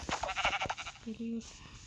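A sheep in the video game Minecraft gives a short bleat after a person's speech, heard clearly and close.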